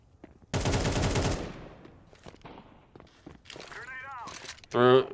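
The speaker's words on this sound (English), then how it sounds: "Just spams a bunch of shots and then throws a grenade forward and then smokes himself off." A rapid burst of gunfire in Counter-Strike 2 rattles loudly for about a second, followed by scattered clicks, footsteps and a distorted voice, with another sharp loud burst at the end.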